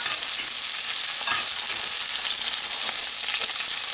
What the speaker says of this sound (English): You see it bubbling and sizzling.